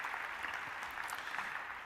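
An audience claps at a university faculty convocation, a soft, continuous wash of many hands heard from some distance, with no talk over it.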